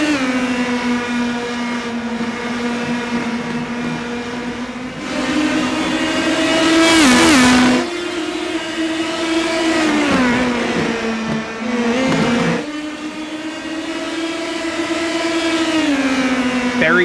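Indy Pro 2000 race cars in the iRacing simulator roar around Kern County Raceway Park, with a sustained high engine whine that dips and climbs through gear changes and corners, and a louder pass near the middle.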